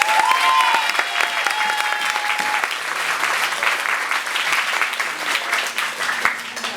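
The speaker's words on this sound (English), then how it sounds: "Please, a round of applause for yourselves, our audience, our community who have made this V-Season such a success" An audience at a theatre performance of The Vagina Monologues in Busan claps loudly and steadily, a dense close wash of applause that carries on throughout without any talk over it.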